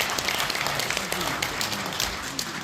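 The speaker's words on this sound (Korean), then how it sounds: "여러분 박재호 의원님께 박수 한번 부탁드리겠습니다." An audience at a book concert in Namgu Arts Center, Busan claps in a dense, continuous wash of applause, with faint voices mixed in.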